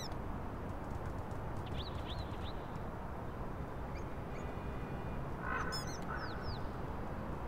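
A duck quacks in Little Kitty, Big City, a few faint honking calls over a dense rumbling outdoor ambience, with a small burst of calls near the end.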